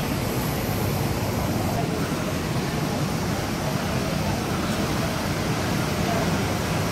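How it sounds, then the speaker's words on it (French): Steady, loud broadband roar of a Boeing 787 Dreamliner on the runway on arrival at Tahiti, a continuous jet and wind rumble that stays even throughout with no talking. "Voilà notre avion, le Tation Dreamliner 787."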